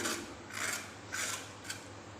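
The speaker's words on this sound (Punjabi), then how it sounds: "ਹੁਣ ਇਹਨਾਂ ਨੂੰ ਆਪਾਂ ਛਿੱਲ ਲੈਨੇ ਆ" Kachri wild cucumbers are peeled by hand with a blade, making four short rasping scrapes in an uneven rhythm, close and quiet with no speech.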